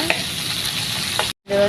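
Wet green chilies crackle and sizzle loudly in hot oil, a dense hiss that cuts out briefly near the end before resuming.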